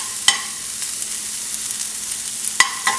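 Mushrooms sizzle steadily in oil in a hot pan, a close, continuous frying hiss broken by a couple of sharp clatters of a utensil against the pan.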